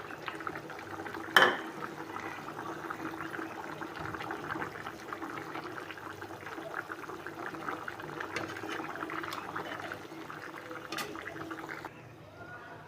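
An egg and potato curry simmers in a pot, giving a soft, continuous bubbling and hiss that holds steady throughout, with one sharp clink of a utensil early on and a few faint knocks.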